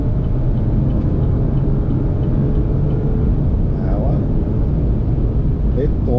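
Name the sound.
Chevrolet Montana 2023 pickup accelerating from 80 to 120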